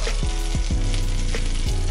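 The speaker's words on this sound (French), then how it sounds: "Une fois que vous entendez crépiter votre poêle" Loud, constant sizzling of small bread rolls frying in a hot pan, with periodic scraping clicks from stirring or moving pieces around.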